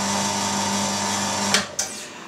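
A meat grinder mincing beef for sausage whirs with a steady motor hum, then shuts off and leaves a couple of brief clatters.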